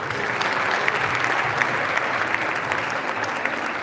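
Audience applause at a Caucasian cultural association evening in Kayseri as a dance teacher is invited to the stage, dense steady clapping from a large crowd.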